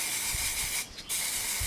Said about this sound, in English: simply get a can of black spray paint